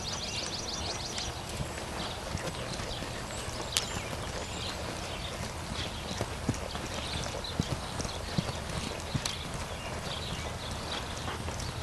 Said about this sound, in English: get that trot again so you can get one big lap